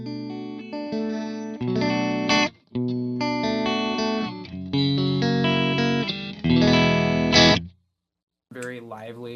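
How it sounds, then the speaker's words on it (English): A Jackson Soloist electric guitar on its split-coil pickup setting, picked with a jazz-style pick, rings out in bright sustained chords and single notes with effects, loud phrases broken by a brief gap, then a final note trailing off. "I'm noticing that the split coil tones in particular when playing something like this"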